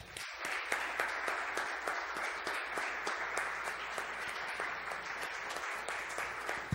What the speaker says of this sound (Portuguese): a gente encerra nessa noite com uma salva de palmas para vocês.